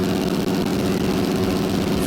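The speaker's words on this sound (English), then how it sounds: "Freaking rev the engine." A Yamaha YZ450F dirt bike engine roars in the supercross game MX vs ATV Legends, a loud, sustained, gritty drone held steady at high revs, with no talking.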